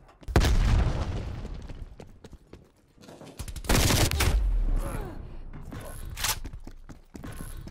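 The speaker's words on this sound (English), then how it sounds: "Throwing grenade." A grenade explodes during a Black Ops Cold War multiplayer match, with sharp, loud booms and bursts of gunfire arriving in separate blasts amid the chaotic battle noise.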